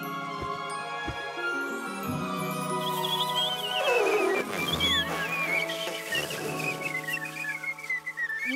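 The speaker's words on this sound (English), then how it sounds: "What's that noise? It's whistling." A cartoon whistle in a children's animated show, bright rising and sliding high tones layered over a held musical drone, growing louder and busier toward the middle then trailing off in long sweeping glides.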